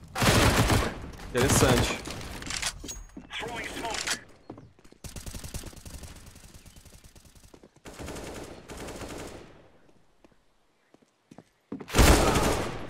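First-person shooter video game gunfire: loud bursts of rapid automatic shots in several clusters, separated by quieter stretches of mechanical game sounds, with a brief spoken word in the middle.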